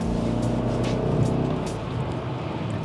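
A Mercedes CLS 63 AMG V8 exhaust burbles steadily at close range, a deep, rumbling, loud low growl with a slight swell partway through.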